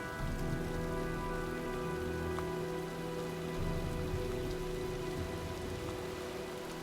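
Rain pours in the video game Heavy Rain, a steady patter of drops on surfaces under a low, sustained game ambience with held tonal hums, no speech.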